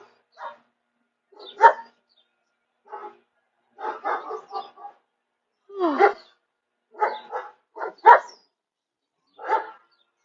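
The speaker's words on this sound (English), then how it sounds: "Passing barking dogs." Guard dogs barking while someone walks past, a series of loud, fairly close barks in irregular bursts with short quiet gaps between them.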